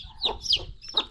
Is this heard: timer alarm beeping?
no